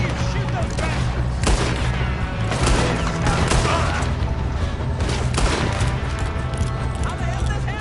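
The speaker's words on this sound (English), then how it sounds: "One of you shoot those bastards!" Dense, continuous gunfire in a Red Dead Redemption 2 shootout, shots overlapping with booms and clatter throughout, loud and unbroken, with voices shouting amid the fire.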